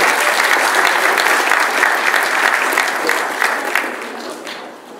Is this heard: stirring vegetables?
no